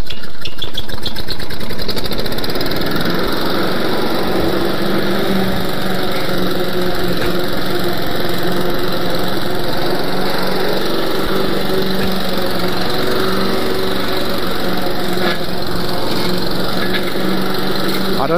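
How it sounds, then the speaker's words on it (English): A lawn mower engine runs steadily and loudly while cutting weeds, holding a constant close drone with a faint shifting load and no voices. "I don't know if you can hear me, because this lawnmower is pretty loud."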